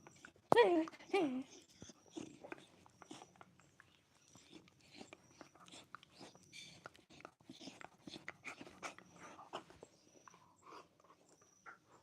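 A dog makes faint, soft whining and snuffling noises close by, with a couple of clearer bursts early on, under quiet whispering and low talk throughout.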